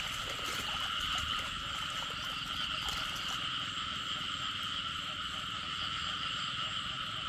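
Frogs croaking steadily and densely through a field where frogs are being caught, a continuous chorus of layered calls in the background with no clear pauses and no talk.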